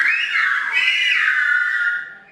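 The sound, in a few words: Silbo whistled Spanish saying Buenos días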